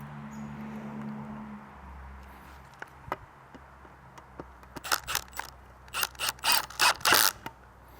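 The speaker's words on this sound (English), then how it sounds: "I'm obviously screwing them into the back side of the board here" A screw gun drives screws into the back side of a wooden fence board, starting with a few scattered clicks and rattles, then building into several short, loud, close whirring bursts near the end.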